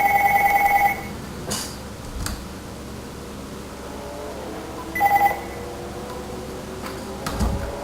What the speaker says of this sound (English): phone always rings while recording